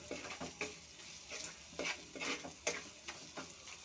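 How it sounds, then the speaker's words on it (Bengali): Ground spices with ginger paste and salt sizzle faintly in a pan for an egg curry with potato and papaya, while a spatula scrapes and stirs in quick, uneven strokes. "ভালো করে ভাজা ভাজা করে নেব"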